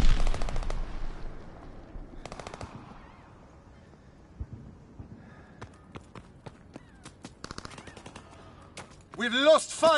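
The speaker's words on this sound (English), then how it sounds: "Fighter pilot inbound, strafing the target." Strafing gunfire from a fighter plane in the Call of Duty WWII video game: bursts of rapid machine-gun fire come and go over a busy battle backdrop, and a loud, dense volley closes the clip.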